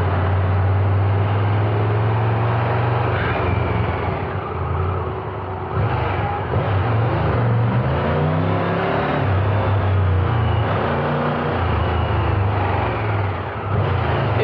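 Triumph Tiger 1200 Rally Explorer motorcycle engine running while riding, a continuous low rumbling drone with wind rush and gentle rises and dips in revs, no talking.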